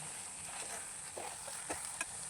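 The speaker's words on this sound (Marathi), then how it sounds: "गूळ घातल्यामुळं कसं मिश्रण पातळ होतं ना, म्हणून सतत ढवळत राहायचं." Jaggery porridge (gulachi lapshi) being stirred in a pan: a faint, steady background hiss with a few soft scrapes and light knocks of the spoon, quiet and close.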